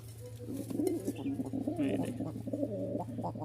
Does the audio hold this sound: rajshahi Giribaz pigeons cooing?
yes